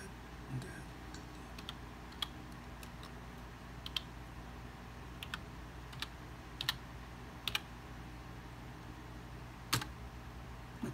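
Typing on a computer keyboard, sparse soft key clicks and a few sharper taps spread over a quiet room hum, faint and close, no talking.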